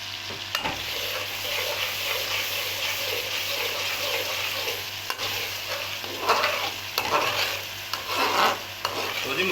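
Ground spices with dried coriander and garam masala roasting and being stirred in a pan for a village-style masala fish curry, a steady close sizzle with scraping stirs that grow busier toward the end.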